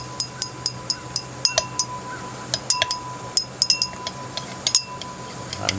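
A metal stirring rod tapping and clinking against a crucible of molten scrap gold jewelry, a quick series of bright, sharp clinks at an uneven rhythm over a steady low hum, close and clear.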